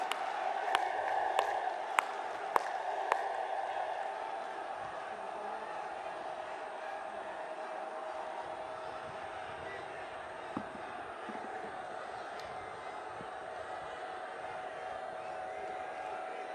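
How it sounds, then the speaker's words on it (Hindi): Large crowd at Prime Minister Modi's Parivartan rally in Lucknow applauding and cheering, heard as a steady, distant roar of many voices with a few sharp claps near the start. "खड़े होकर अपने स्थानों से तालियों के गड़गड़ाहट से जबरदस्त स्वागत करें मित्रों"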